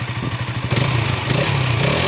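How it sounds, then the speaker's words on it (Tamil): A KTM Duke 200 BS6 motorcycle engine runs close and loud, its throb rising as it revs up and then holding a steady, higher roar. "அப்படியே பைக்கோட ஆர்பிஎம் கேட்கலாம்"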